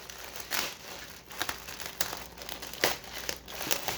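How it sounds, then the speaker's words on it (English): Plastic wrap peels off the packing tape on a refrigerator box in close, crinkly bursts and scattered crackles, with no voices. "I'm just going to try to peel the plastic off of the tape."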